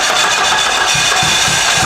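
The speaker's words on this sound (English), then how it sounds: "So it should just spin and fire up." A Dodge Neon SRT4 engine cranks and fires up, with a loud, steady mechanical whir and low rhythmic thumps that grow stronger toward the end.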